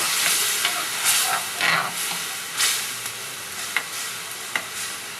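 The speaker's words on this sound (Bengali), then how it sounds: "দিয়ে তিল আর টমেটো সসটাকে ভালো করে নেড়ে নেব" A spoon stirs sesame and tomato sauce in a sizzling pan, with irregular scrapes and clinks over a steady close hiss and no voices.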